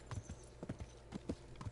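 A horse walks with a steady clip-clop of hooves in Kingdom Come Deliverance, the strikes soft and fairly distant, evenly spaced over quiet ambience with no talk.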